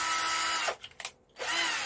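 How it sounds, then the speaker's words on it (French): A power drill whines loudly and steadily drilling into a plastic dish rack, cuts out briefly twice in the middle, then resumes at full speed. "Quand est-ce que je dois m'inquiéter de te voir avec une perceuse dans l'égouttoir à vaisselle?"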